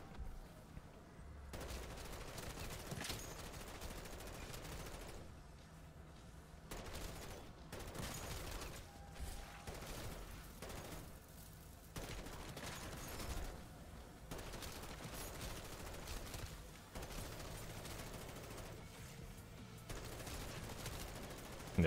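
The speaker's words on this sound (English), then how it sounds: "Yeah, this M4 is definitely shredding this zone." An M4 rifle fires in MW3 Zombies, a first-person shooter game. Quiet bursts of rapid automatic gunfire repeat throughout with short pauses between them, and there is no talking.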